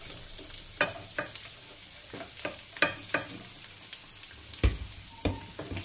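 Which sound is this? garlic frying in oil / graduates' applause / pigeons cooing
garlic frying in oil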